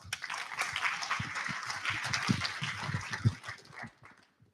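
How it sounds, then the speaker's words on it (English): Audience clapping at an IHRA drag racing Hall of Fame induction ceremony: a steady, fairly faint patter of many hands that tapers off and fades out near the end. "Give him a round of applause."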